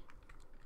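Fingers tap a computer keyboard in a quick run of about six soft, close keystrokes, with no voices.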